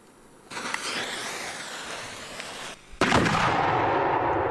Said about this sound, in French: Ça, il faut vraiment pas être à côté de ça explose au sol.